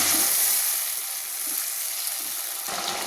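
Water used to rinse a spice bowl poured into a pan of simmering vegetable curry with potatoes, pointed gourd, soy chunks and chickpeas, giving a loud, close, steady hissing sizzle throughout.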